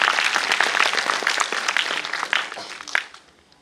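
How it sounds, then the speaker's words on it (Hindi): Dense audience applause at a Hindi religious discourse, steady and loud clapping from a large crowd that tapers off near the end. "थोड़ा सा ताली बजा दो साउंड वालों के लिए"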